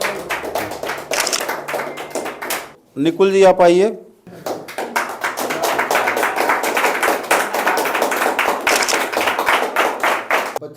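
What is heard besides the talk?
audience applause for Kalpesh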